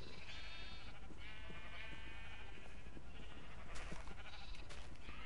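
Sheep bleating in Minecraft, repeated bleats over a steady bed of game noise with no talk.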